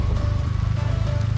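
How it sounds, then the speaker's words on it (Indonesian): Heavy rain pours down during a motorcycle ride near Jatiluwih, a steady dense hiss of drops close by with a low rumble of the bike underneath. "Hujan cukup deras seperti terlihat."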